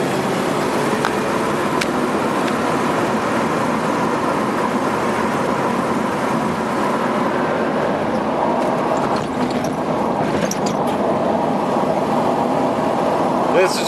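A 1970 Chevrolet Corvette coupe with T-tops driving and accelerating through the gears, a steady, broadband engine and road roar heard from inside the car, with some talk mixed in.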